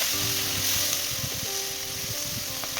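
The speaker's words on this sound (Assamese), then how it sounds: "হাই ফ্লেমত ভাজিব" Chilli baby corn with coriander powder, cumin powder and red chilli powder fries over a high flame, making a dense, steady, close sizzle with light stirring clicks throughout. No voices.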